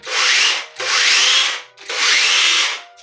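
A WORCRAFT power tool fitted with a saw attachment runs in three loud, sustained bursts of buzzing and cutting, each separated by a brief dip, close by with no talking.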